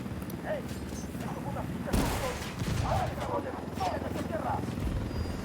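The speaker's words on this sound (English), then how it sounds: "Opening fire." Gunfire crackles through a video game firefight at a drug-smuggling logistics hub, a jolt near two seconds followed by repeated bursts of shots over steady low rumble and engine drone.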